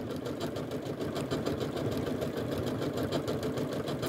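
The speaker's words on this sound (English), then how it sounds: "And then I'm just going to start stitching, and I'm keeping the edge of my foot on the edge of the fabric here." A Janome sewing machine stitches along fabric bunting with a fast, even mechanical whirr and rapid needle clatter, running continuously and close without any talk.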